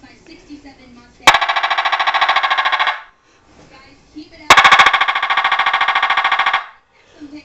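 A loudspeaker inside a CARF Corsair model plane fires two loud bursts of simulated machine gun fire, each lasting about two seconds of rapid, even rattling, separated by a quiet pause with faint background sounds.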